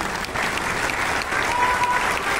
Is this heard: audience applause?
yes